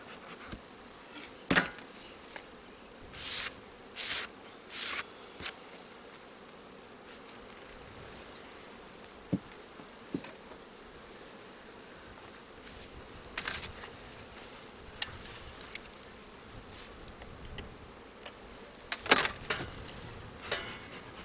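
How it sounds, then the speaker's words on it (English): A honey bee colony in an opened hive gives off a constant low buzzing drone, with individual bees zipping loudly past nearby now and then over about twenty seconds. "now this is actually the lid into the bee colony here"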